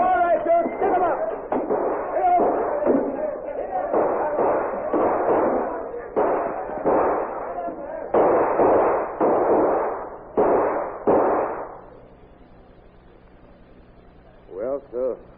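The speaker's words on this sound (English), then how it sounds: "someone shot out the lamp, and in the dark there was a furious gun battle" A furious gun battle in the dark, staged as a sound effect for a 1939 radio drama: a rapid series of loud, clipped bangs and thuds for about eleven seconds, then near silence.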